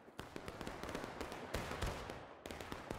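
A ragged volley of muskets fired by a line of soldiers in the War of Rights video game: several sharp cracks in quick succession, some near and loud, others farther off, echoing.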